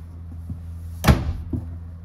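A single solid door of a 2024 Forest River Flagstaff Classic RV thuds shut close by, a short dull bump against a steady low hum.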